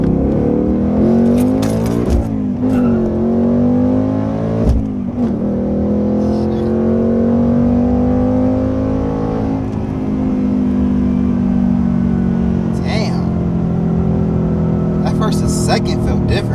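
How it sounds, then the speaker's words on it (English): A Ford Mustang S650 engine revs up hard through a first gear pull, a steady loud drone rising in pitch and held for most of the stretch, heard close from inside the car with a few brief bumps and clicks. "Let's do a first gear pull."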